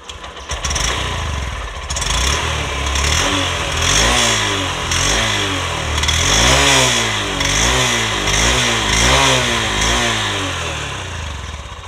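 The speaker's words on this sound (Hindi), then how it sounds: "शाइन का एग्जॉस्ट नोट" A 2022 Honda Shine 125 motorcycle revved close up with its exhaust note rising and falling in repeated throttle blips over a steady idle rumble, loud and alone with no talk.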